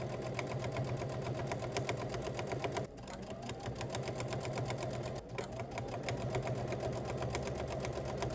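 Sewing machine stitching steadily, a fast continuous mechanical whir with rapid needle rhythm, briefly slowing twice before resuming, close and fairly loud with no talk.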